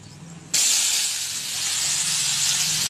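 Onions go into hot oil already seasoned with dried chilli, bay leaf, cinnamon, cardamom and cloves, setting off a sudden, loud, steady sizzle that holds for about two and a half seconds before cutting off.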